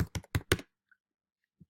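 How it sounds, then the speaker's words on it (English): Keystrokes on a computer keyboard: four quick taps in a tight burst, then a couple of faint stray clicks. Quiet and close, with no voices. "My typing's not good, right?"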